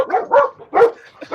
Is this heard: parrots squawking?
no